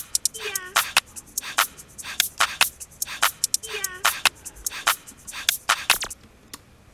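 Beat percussion of claps, hi-hats, a laser-gun zap, reverb snare and rim shot plays as a busy, looping rhythmic pattern, crisp and close with a pitched laser sweep recurring each bar.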